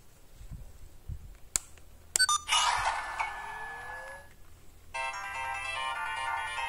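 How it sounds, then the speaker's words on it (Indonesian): A bright electronic ringtone melody plays from a small Kamen Rider Kaixa toy gear after a few clicks, fairly close, with no voices. "Nih, ringtone-nya bunyi."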